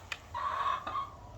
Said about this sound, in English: There's chickens waiting in line to lay eggs.